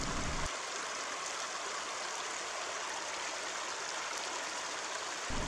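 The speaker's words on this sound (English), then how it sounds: "Go ahead and wash it off a little bit" Water washes over an agate rock, making a steady, close rushing and splashing that runs unbroken from start to finish with no talk.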